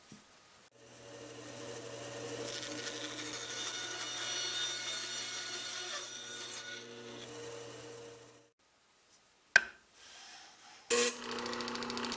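Hand sawing through wood to cut off a mitered corner piece, a steady rasping stroke sound lasting several seconds close by, followed by a pause and a few sharp knocks and handling noises.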